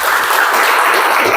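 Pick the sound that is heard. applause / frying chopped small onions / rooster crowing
applause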